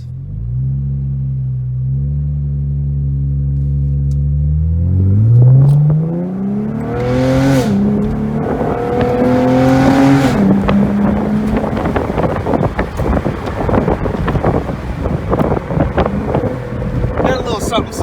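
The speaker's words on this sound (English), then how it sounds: "let's launch this real quick. I never launched a Camaro before." A 2017 Chevrolet Camaro launches hard, its engine note climbing steadily as it accelerates, then giving way to loud rushing wind and road roar.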